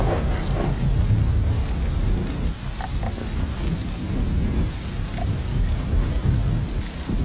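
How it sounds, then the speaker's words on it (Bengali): Heavy rain roars steadily with a deep, rolling low rumble like continuous thunder underneath, loud and unbroken throughout, with no voices over it. "বৃষ্টির ধারা অব্যাহত রইল।"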